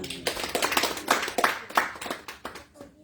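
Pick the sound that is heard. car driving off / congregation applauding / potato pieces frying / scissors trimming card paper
congregation applauding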